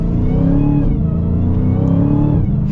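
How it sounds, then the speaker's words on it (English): A 2023 Dodge Challenger Hellcat accelerating at partial throttle, with a loud, close engine roar that climbs and shifts in pitch under a thin supercharger whine, and no talking. "partial throttle like sounds really good with the supercharger whine, and it gets up and it moves."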